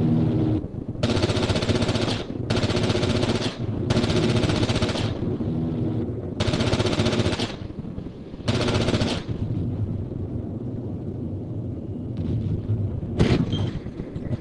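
A .50 caliber machine gun fires in Project Reality, a military co-op game with an M1A1 Abrams, in five loud, sustained bursts of roughly one to two seconds each, separated by short pauses, with a final brief burst near the end.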